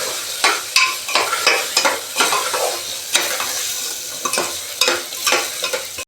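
Potato curry made with homegrown organic potatoes, turmeric, salt and garlic chili is stirred in a hot pan, with loud, repeated scraping strokes in an uneven rhythm over a constant sizzle.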